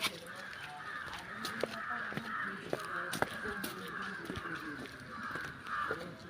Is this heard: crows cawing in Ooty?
yes